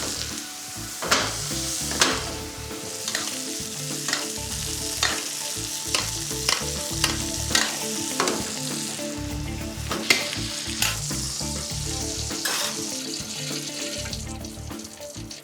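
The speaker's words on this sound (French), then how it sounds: "pendant que la cuisson de la côte de bœuf se finit" A côte de bœuf searing in a hot pan in a restaurant kitchen, a loud continuous sizzle and spatter close by, broken by sharp clatters of utensils throughout.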